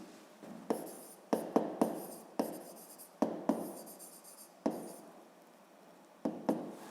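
Pen or chalk strokes and taps writing out a math equality by hand, a string of sharp, close clicks in an irregular rhythm with quiet scratching between them.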